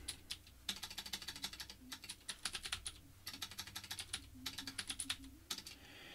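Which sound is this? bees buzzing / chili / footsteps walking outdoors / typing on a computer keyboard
typing on a computer keyboard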